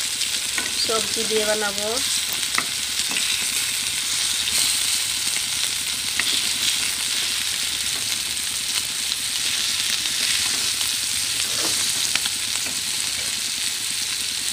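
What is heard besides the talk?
fish frying in a pan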